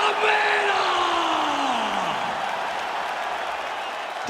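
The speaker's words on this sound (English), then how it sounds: "Always a rowdy crowd here inside United Center in Chicago, Illinois" A rowdy arena crowd cheers and roars at a fight inside the United Center in Chicago, Illinois, in the UFC video game on PS5. The dense, loud swell fades slightly, while a single tone slides downward over it.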